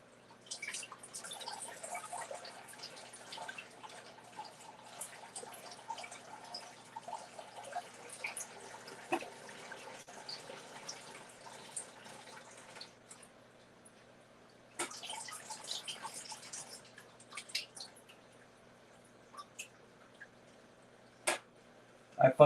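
Water drips and trickles steadily from a tube during drip acclimation for a brackish aquarium, faint close droplets in an irregular pattern with a few louder splashes near the end.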